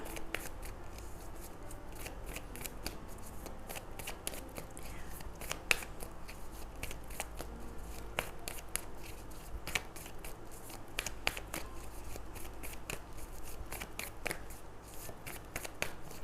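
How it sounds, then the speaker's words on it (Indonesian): Tarot cards are shuffled by hand in a steady run of quick, crisp riffling clicks and snaps, close and continuous with no talking. "sekarang Bunda akan shuffle dulu kartunya"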